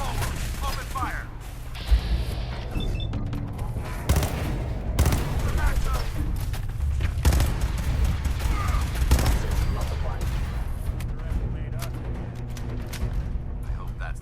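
Gunfire crackles in the Fallout 4 video game, with rapid shots and bursts of automatic fire layered over a busy battle and occasional louder cracks, while people talk over it.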